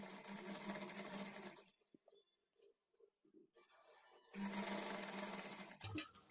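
A sewing machine stitches blouse fabric along a quarter-inch seam margin in two loud bursts of steady whirring. A quiet pause with faint handling sounds separates them.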